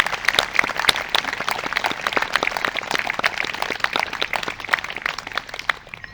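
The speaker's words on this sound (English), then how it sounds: "let's give all these people so far a round of applause" Outdoor crowd applause at a remembrance service at Staveley Hall, many hands clapping in a lively, crackling patter that stays fairly close and steady throughout with no talk.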